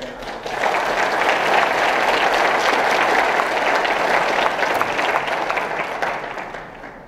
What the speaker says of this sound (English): a round of applause for our distinguished guests here